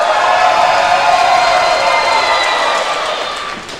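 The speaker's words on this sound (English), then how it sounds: "The crowd chanting for Rok-C." A wrestling crowd chanting for wrestler Rok-C, a loud sustained roar of many voices filling the arena and fading slightly near the end.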